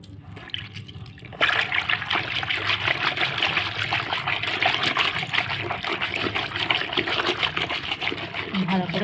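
Warm water mixed with shampoo and lemon juice being stirred by hand in a basin for a home pedicure: a steady, close swishing and trickling of water that begins after a quieter opening and continues throughout.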